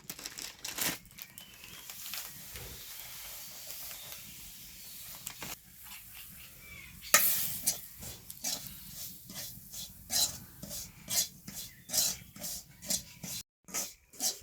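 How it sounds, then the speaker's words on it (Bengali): Semolina roasting in ghee in a hot wok, stirred for a sweet filling for patishapta pitha: soft sizzling hiss with irregular scraping and crinkly bursts from the spoon, growing busier and more rhythmic in the second half. "সুজি কাটা ভাজা হয়ে গেছে"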